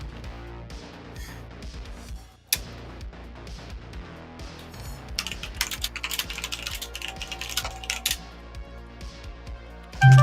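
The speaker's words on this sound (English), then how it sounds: "I'm typing." Steady, fast clatter of typing on a computer keyboard during game development work runs for about ten seconds, with one sharp knock early on and a louder burst of keystrokes at the end; no talking.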